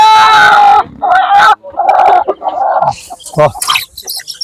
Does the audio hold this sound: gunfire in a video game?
no